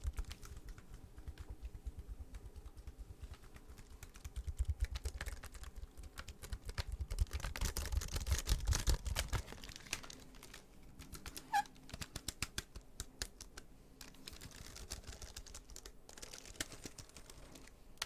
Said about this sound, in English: Now I'm going to try and type out my name.